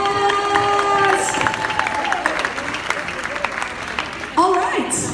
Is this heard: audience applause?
yes